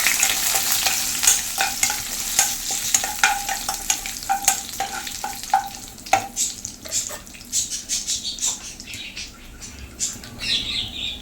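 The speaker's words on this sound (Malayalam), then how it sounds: "അതുപോലെ കുറച്ച് കറിവേപ്പിലയും കൂടി ഇട്ട് കൊടുക്കാം നല്ലപോലെ ഒന്ന് മിക്സ് ചെയ്ത് കൊടുക്കാം" Curry leaves crackle and sizzle in hot oil while being stirred in a pan for a Kerala horse gram curry, with steady frying hiss and repeated scraping clicks of the spoon, close up and alone.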